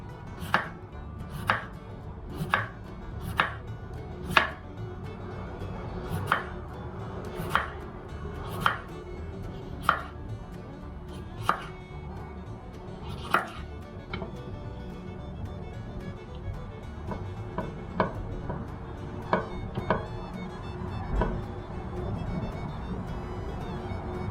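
A knife chops potatoes on a cutting board in sharp, evenly spaced thuds, close and clear, about one per second, growing softer and more irregular toward the end; no talking.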